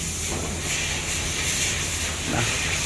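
Coconut frying in hot oil gives a steady, loud hiss and sizzle that runs the whole time with no breaks, and a little faint background noise sits under it.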